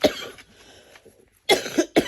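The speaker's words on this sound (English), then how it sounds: "Sorry about the coughing." Several sharp, close coughs burst out, one near the start and a tight cluster at the end, with a quiet pause between them.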